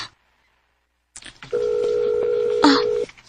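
A cellphone rings in a Filipino radio drama, its steady electronic ring tone sounding for about a second and a half after a brief rustle, fairly loud and close with a short burst of other sound near the end.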